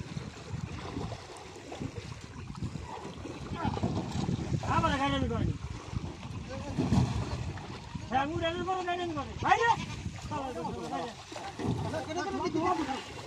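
Goats bleat in several short quavering calls as they are carried aboard a river trawler on the Padma river, with wind and water noise behind and someone talking throughout.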